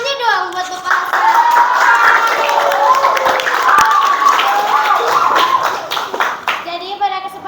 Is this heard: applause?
yes